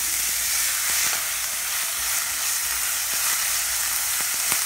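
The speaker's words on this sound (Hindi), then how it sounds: "ग्रीन चिलीज ऐड करूंगी और इसको भी भून लूंगी" Green chilies and onions frying in a pan for paneer bhurji, a steady close sizzle and crackle with a few soft stirring clicks, no voices.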